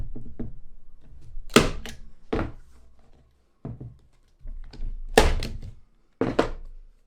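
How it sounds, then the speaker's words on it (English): Several sharp wooden thunks in quick pairs as brads are tapped into a glued drawer front during a campervan conversion, close and distinct with quiet pauses between strikes. "now I'm just going to put a couple of brads in there just to hold that in place while the glue sets"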